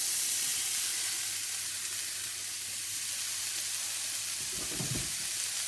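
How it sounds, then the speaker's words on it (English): Two onions and two carrots sizzle in a large frying pan sprayed with butter Fry Light, a steady close hiss running throughout with a brief low clatter near the end, no voices. "I've got my large frying pan which has been sprayed with butter fry light, and I've got my 2 onions and 2 carrots in there"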